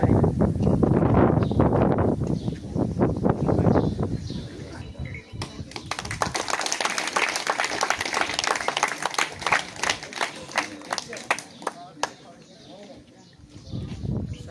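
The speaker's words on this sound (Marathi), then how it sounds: "सर्वांनी टाळ्या वाजवून त्यांचं स्वागत करायचं." A school gathering claps to welcome guests at a student supplies distribution event; after a stretch of louder talk, a sustained round of applause rises and runs on, with voices mixed in.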